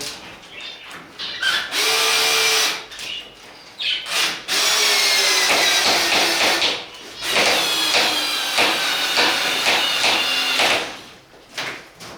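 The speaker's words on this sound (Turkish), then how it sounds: "Şuraya vidamızı geçirelim." A power drill drives a screw into a budgerigar bird cage in a room, whirring loudly in several long bursts separated by short pauses, with no talk.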